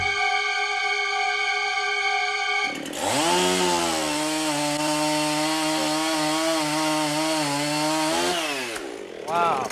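A Husqvarna Model 51 chainsaw idles with a steady harmonic drone, then revs hard and bites into wood for several seconds of loud continuous cutting before dropping back to idle.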